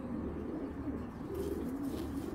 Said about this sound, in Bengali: বিশাল বড় কবুতরটা, মাদি কবুতর